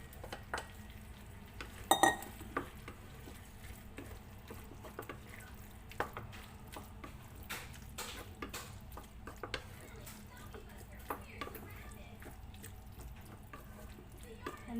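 Okra, or bhindi, for an Indian okra masala sizzles softly in a pan, with intermittent stirring scrapes and clicks and a faint background hum.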